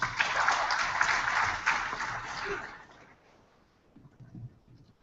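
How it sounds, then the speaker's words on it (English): An audience at an electromagnetics lecture claps for about three seconds, a dense, fairly close patter of many hands, then the applause fades into quiet room noise with faint scattered sounds. "We would like to convey our appreciations in our conventional way by clapping our hands"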